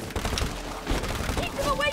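Rapid bursts of gunfire in the video game It Takes Two crackle continuously, mixed with game effects and voices talking over them.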